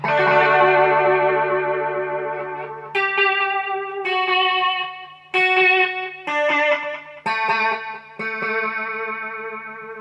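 An electric guitar runs through a Zoom MultiStomp effects pedal patch, sounding sustained distorted chords and then choppy strummed stabs with chorus and echo colouring, fairly loud and with no voice.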